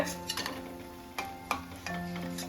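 Pumpkin and coconut chops fry in hot oil, a faint steady sizzle broken by scattered crackles and stirring clicks, heard close and without talk.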